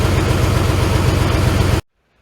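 A Case 930 tractor engine runs steadily while driving its auxiliary hydraulic pump, a loud, close, low diesel chug that cuts off abruptly into silence near the end.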